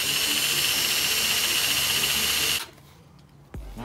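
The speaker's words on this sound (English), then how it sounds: "So I'm gonna use a drill." A power drill runs with a steady, loud high-pitched mechanical whine for over two seconds, then cuts off abruptly, leaving near quiet with a brief thump at the end.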